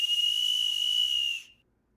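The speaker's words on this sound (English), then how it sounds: "It is the Wienermobile whistle." A Wienermobile whistle gives one steady, piercing high tone, loud and close, held for about a second and a half before cutting off abruptly, with a breathy hiss around it and no other sounds.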